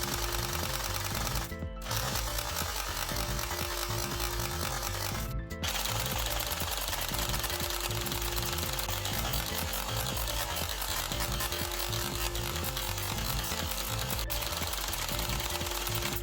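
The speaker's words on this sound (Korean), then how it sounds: "연발 사격을 해보겠습니다." A K1A electric airsoft gun fires full-auto in long continuous bursts, a rapid mechanical buzzing rattle that stops briefly twice, close and steady.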